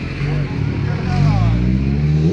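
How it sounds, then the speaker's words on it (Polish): A vehicle engine runs close by with a steady low rumble that rises slightly in pitch as it revs, while people talk over it at an outdoor evening event. "Możesz wyłączyć silnik?"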